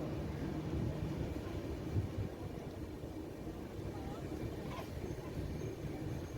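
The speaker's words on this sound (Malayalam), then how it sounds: "അങ്ങനെ ട്രെയിൻ പോവുകയാണ്." A lightly occupied passenger train between Kottayam and Kanniyakumari runs along the track with a steady, low rumble of wheels and carriage, fairly quiet, with a faint brief screech near the end.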